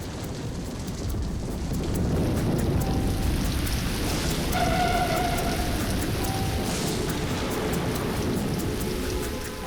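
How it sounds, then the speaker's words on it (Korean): Heavy rain from an approaching thunderstorm pours down in a dense, continuous hiss, with low rumbling swells and gusts of wind building steadily over a long stretch, loud and without talk. "멀리서 쏟아지던 천둥비가 점점 다가오고 있죠."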